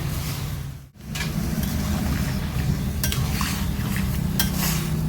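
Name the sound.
stirring bottle gourd with ginger, chilli and water in pan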